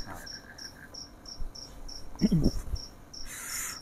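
A cricket chirps in short, evenly spaced pulses, soft and close, with a brief low thump partway through and a burst of hiss at the end.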